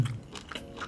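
A close, crisp bite into kielbasa sausage dipped in cheddar cheese sauce, with one or two short crunchy chews in under a second.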